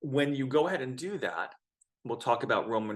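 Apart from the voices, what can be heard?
No everyday noise stands out behind the speech.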